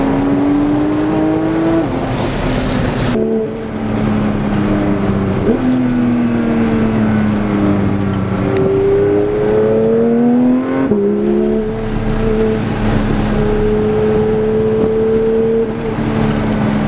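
A Porsche 992 GT3 on a race track, its engine droning loud and close, rising through the revs, dropping sharply at each gear change and climbing again several times.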